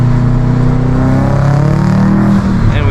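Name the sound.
2007 Subaru WRX STI accelerating in second gear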